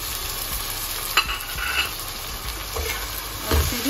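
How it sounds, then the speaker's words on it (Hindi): Tomatoes sizzle and fry in a pan while a spoon stirs them, giving steady crackling with a few scraping strokes, close and moderately loud. "और इसे भी चला लेंगे।"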